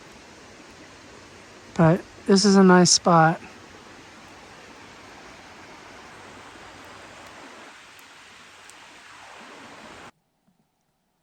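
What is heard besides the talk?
river rushing water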